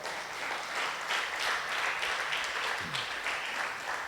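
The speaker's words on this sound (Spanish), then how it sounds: "dale ese aplauso al Señor" Church congregation applauding during a New Year's Eve sermon, a sustained even roar of many hands clapping in a large room, fairly distant and steady.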